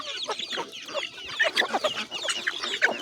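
Chickens clucking busily at close range while being fed by hand, with overlapping short calls and chatter from several birds and no talking.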